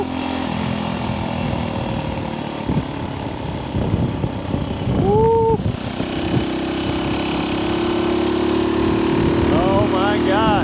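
A vintage 1964 Honda C200 motorcycle engine drones steadily while riding, a close buzzing hum that holds throughout with a brief rising pitch sweep midway and wind noise.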